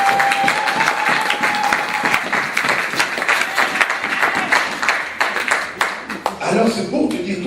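A church congregation applauds and cheers at a preaching service, steady loud clapping from a large crowd with voices calling out over it throughout.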